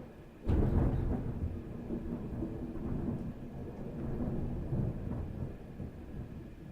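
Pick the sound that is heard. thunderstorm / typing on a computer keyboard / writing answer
thunderstorm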